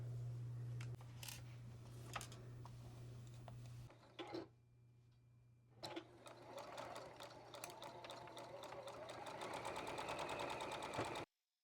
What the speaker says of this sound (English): Then I'm going to sew 1/4 inch down that edge.